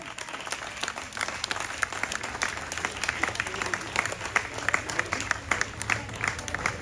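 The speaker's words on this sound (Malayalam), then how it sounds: "നല്ല കയ്യടി വേണം ചാമ്പ്യനാണ്" At a children's run event, an audience claps for the girls' champion with a lively, sustained patter of many hands, some claps sharp and near, the crowd slightly distant.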